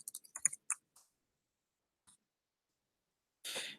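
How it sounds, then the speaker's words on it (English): Someone types a URL on a computer keyboard in a quick cluster of light clicks, pauses, then gives one longer burst of noise at the end. "I'll type the URL in."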